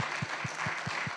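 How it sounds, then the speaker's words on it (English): A seated audience applauds panelists at a community gathering: a steady wash of many hands clapping, with soft rhythmic thumps underneath. "So can we give a round of applause for the panelists?"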